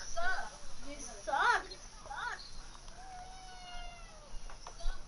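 A cat meows a few times in short, rising cries, with people talking nearby and some background noise.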